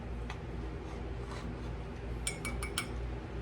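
A regular metal tablespoon clinks a few times against a dish while measuring cornstarch for fried apricot pies, sharp bright taps near the end over a steady low hum.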